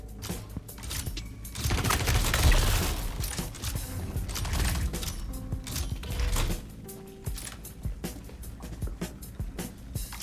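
Gunfire in the video game Star Citizen, with rapid, crackling bursts of shots and mechanical clatter, moderately quiet and uneven in intensity, with no talking over it.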